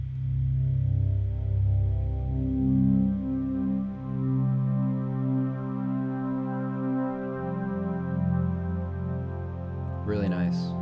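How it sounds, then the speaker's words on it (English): A lush, warm Summer Pad synth preset from the Massive plugin, played through Ableton Live with a 12 Step controller, swells as one sustained chord that slowly shifts for about ten seconds before a brief glitchy flutter at the end. "And Summer Pad sounds like this."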